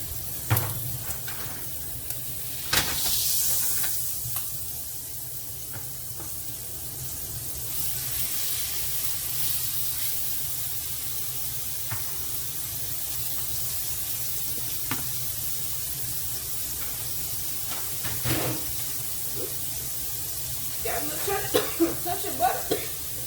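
Catfish frying in butter in a pan gives a steady, close sizzle throughout, with a few sharp pops and clicks of utensils and a burst of crackling near the end.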